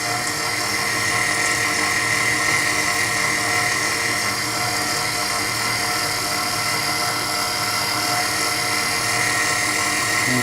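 A stand mixer kneads naan dough for a lamb curry meal, its motor giving a loud, steady whirring drone that runs unbroken and close up, with no talking over it.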